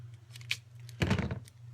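Tim Holtz scissors cut tacky adhesive material for a shaker card, giving a couple of short, close snips, the second louder and crisper, in an otherwise quiet room.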